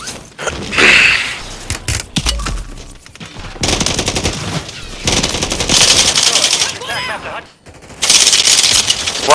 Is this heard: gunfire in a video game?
yes